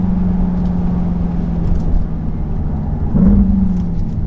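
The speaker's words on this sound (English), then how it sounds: "one of my favorite features about this car is if you pop it into sport mode, the downshifts," An Audi in sport mode drones steadily while driving, and a brief rising engine blip near the end suggests a downshift, with no talking.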